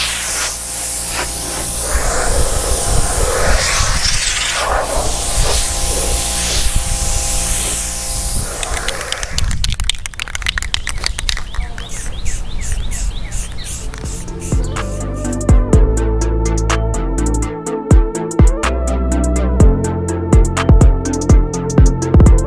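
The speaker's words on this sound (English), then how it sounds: "I'll cut you back on when I get ready to start spraying." Rust-Oleum satin spray paint hisses from an aerosol can in steady, loud bursts, broken by brief pauses and rattling near the end, sprayed up close while prepping a box Chevy Caprice LS Brougham for a G6 panoramic sunroof.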